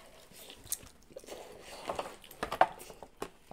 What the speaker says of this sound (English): after you're done chewing